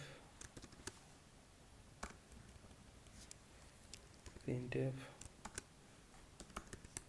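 Computer keyboard typing C code for a user-defined function, scattered key clicks at moderate level with a voice talking over part of it.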